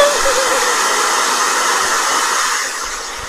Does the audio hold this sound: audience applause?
no